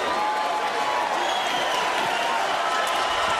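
A boxing crowd at the end of a round applauds and cheers in a loud, continuous wash of clapping that holds steady from start to finish.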